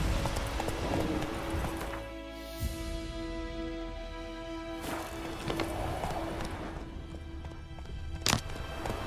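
Hooves of the horse Roach clip-clopping at a run in a video game, rhythmic thuds under music, with a few sharper impacts and little speech.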